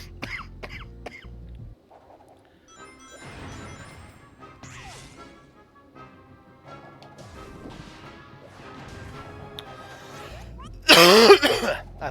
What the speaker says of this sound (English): I apologize, I am coughing like crazy.